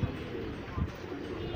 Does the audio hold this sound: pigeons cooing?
yes